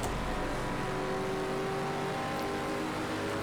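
A race car engine in Project Cars 2 holds a steady, muffled droning roar with faint whining tones, a continuous mid-distance sound that stays at an even level.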